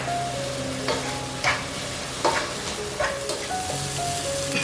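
Vegetables sautéing with salt in a pan give a soft steady sizzle, with occasional scrapes and stirring knocks from a utensil; no talk.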